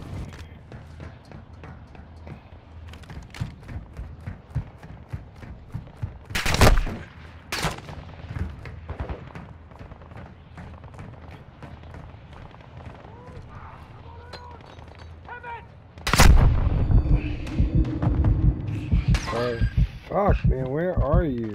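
Gunfire and RPG shots in a video game: scattered rapid gun bursts and a few louder blasts, heard over constant game noise with someone talking now and then.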